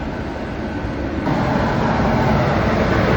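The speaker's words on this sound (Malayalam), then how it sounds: "ഏകദേശം ഒരു 9:30 ആയപ്പോൾ തന്നെ ട്രെയിൻ വന്നു." A train pulling into a station, a steady loud rumble that swells slightly partway through and holds, with no voices.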